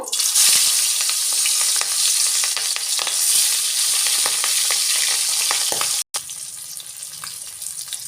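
Rohu fish pieces fry in hot mustard oil in a wok, a loud continuous sizzle with scattered spitting crackles, broken by a brief cut of silence near the end before the quieter frying resumes.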